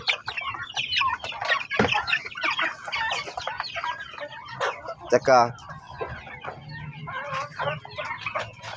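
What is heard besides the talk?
turkeys and chickens in a brooder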